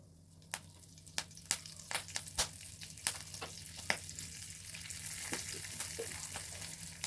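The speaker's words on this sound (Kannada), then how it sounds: "ಆಯಿಲ್ ಚೆನ್ನಾಗಿ ಕಾದಿದೆ ಈಗ ಇದಕ್ಕೆ ಒಣಮೆಣ್ಸಿನ್ಕಾಯಿನ ಹಾಕೋತಾ ಇದ್ದೀನಿ ಹಾಗೆ ಸ್ವಲ್ಪ ಕರಿಬೇವಿನ ಸೊಪ್ಪು" Dry red chillies and curry leaves tossed into hot oil for a tempering, producing a string of sharp crackling pops over a rising, steady sizzle close by.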